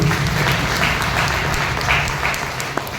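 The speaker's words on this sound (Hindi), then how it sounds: "पहली गाड़ी के लिए एक बार फिर से जोरदार ताली" An audience at a direct selling success event breaks into steady, fairly loud applause that carries on evenly and fades slightly near the end, with a single sharp clap standing out.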